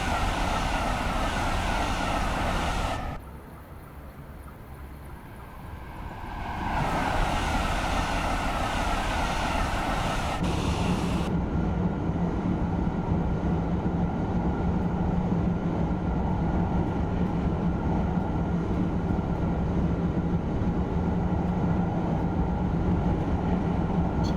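A TGV Reseau high-speed train in Train Simulator 2021 runs with a steady, loud rumble and hiss, muffled for a few seconds before the roar returns at full strength.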